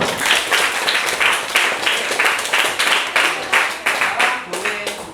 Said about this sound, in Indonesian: beri tepuk tangan buat kita semua